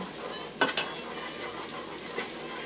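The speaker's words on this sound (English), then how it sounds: "Stir the garlic around." Garlic stirred around in a hot pan for curry potato leek soup, a quiet sizzle with a couple of sharp scrapes of the utensil against the pan.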